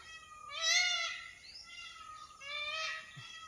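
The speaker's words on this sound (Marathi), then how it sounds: "मोरांचा आवाज" Two loud, drawn-out wailing calls from a peacock behind a house in Konkan, each a rising, mewing cry, separated by a short pause over a quiet background.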